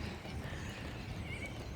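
Horses in an open park setting in Adelaide's Park Lands, heard as a steady outdoor wash of low hoof and animal noise with faint whinnies, continuous and moderately distant, no talking.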